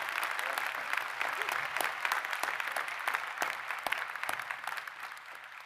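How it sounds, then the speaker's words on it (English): Sustained applause from a university convocation audience after a speech, a dense patter of many hands clapping at moderate volume from some distance. "Let's give him another round of applause for that wonderfully uplifting speech."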